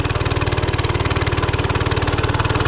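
Oryxearth 105cc gas mini bike engine running with a steady, rapid, pulsing putter, loud and close, alone without talk.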